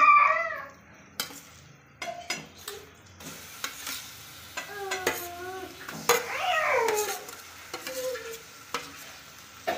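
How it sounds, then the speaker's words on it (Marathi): Mashed eggplant bharit is stirred into hot oil with garam masala in a pan, Vidarbha style. A spoon scrapes and knocks against the pan in close, irregular strokes over a soft sizzle. "आपण वांग्याचं भरीत टाकून घेऊया"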